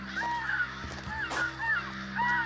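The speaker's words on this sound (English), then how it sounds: "be mobbed frequently by crows and blue jays" Several crows caw repeatedly outdoors while mobbing an owlet, harsh calls overlapping in rhythmic bursts at moderate distance over a steady low hum.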